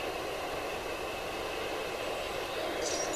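A locomotive running in the railroad simulation game Railroad Tycoon 3, a steady, continuous rumble and rolling hiss of a passing train held at a constant level, with a faint high whine near the end and no talk.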